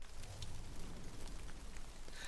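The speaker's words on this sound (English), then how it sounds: "rain." Steady rain from a Dreams creation on PS4, a soft continuous hiss with low rumble that holds at an even, moderate level throughout.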